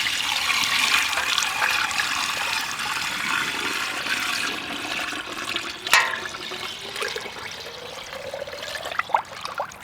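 Brine for salting herring poured steadily into a small barrel, a gushing, splashing stream with gurgles, ending in a few drips and splashes.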